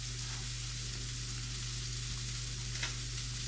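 A dollop of butter is stirred into a hot sauce for a blackened walleye sandwich, with a steady low sizzle and faint stirring scrapes, no talking.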